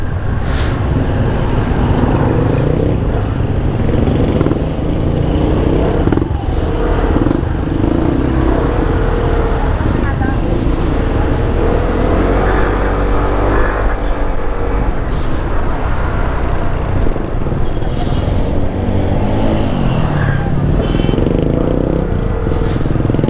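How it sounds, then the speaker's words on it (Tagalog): A Euro Falcon 180i motorcycle's muffler gives a steady, full, deep exhaust drone throughout, loud and continuous, with road and wind noise mixed in and no talking. "Yung tunog ng muffler nito kakaiba talaga, buong buo siya."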